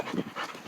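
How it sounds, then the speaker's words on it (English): A dog pants and scuffles playfully at close range, a short burst of quick breathy huffs with a faint whine-like tone. "That's my dog."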